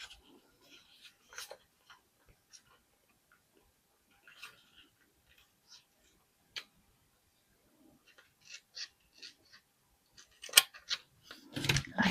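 Scissors cut paper for a layered planner page, with scattered soft snips and rustles that build to a denser, louder burst of cutting near the end; no one speaks.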